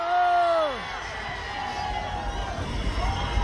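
A crowd of festival-goers at the Daejeo tomato festival roars in a sustained cheer outdoors, loud and broad, following a brief amplified voice over the PA.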